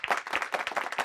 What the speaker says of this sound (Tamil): இந்த கைத்தட்டு பத்தாது.